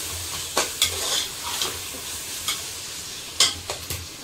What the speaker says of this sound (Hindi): टमाटर डाल के इसको अच्छा भूनूंगी।